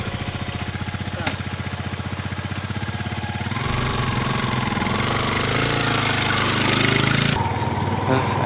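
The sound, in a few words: motorcycle engine running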